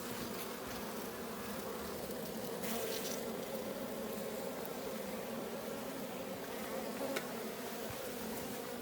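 Honeybees buzz continuously around an open beehive frame, a faint, dense hum of many insects with no voices.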